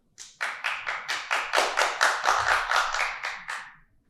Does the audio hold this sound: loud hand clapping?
yes